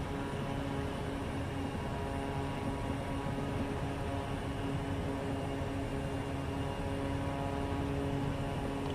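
Simulated fixed-wing aircraft taking off in Microsoft Flight Simulator from Merrill Field in Anchorage, Alaska: a steady, loud engine and propeller drone that holds evenly for the whole stretch, no voices.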